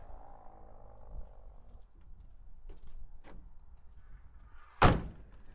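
A low idling hum fades, followed by a few light clicks and then a single sharp, solid slam of a 1946 Ford COE cabover truck cab door close by.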